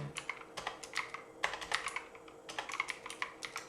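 Fingers type on a computer keyboard in quick, uneven bursts of close, crisp key clicks with short pauses between groups.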